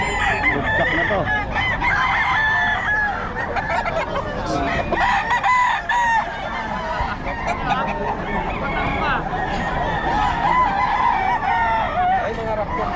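Roosters crow repeatedly over steady clucking from a crowd of gamefowl brought in by a seller, a loud, busy mix of overlapping calls with some voices talking in the background.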